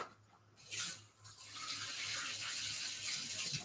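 Tap water runs steadily into a kitchen sink as hands are rinsed off between rounds of chopping onions, a continuous close splashing rush with a brief dip early on, no talking.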